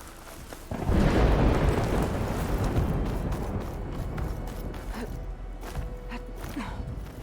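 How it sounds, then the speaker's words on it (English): Thunder rumbles in the video game Horizon Forbidden West, a deep, heavy roll that breaks in suddenly and fades slowly over several seconds, with rain-like hiss behind it. "Did we all hear thunder,"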